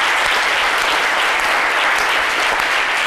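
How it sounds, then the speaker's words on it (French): A dense, steady roar of audience applause fills the hall without a break, loud and close, with no talking over it. "On va applaudir, on va applaudir."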